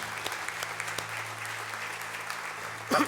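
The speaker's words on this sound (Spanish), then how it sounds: "Dale un buen aplauso de alabanza al Señor." Church congregation clapping in praise, a soft, distant patter of applause that continues evenly throughout, with a low hum underneath and a brief louder burst at the end.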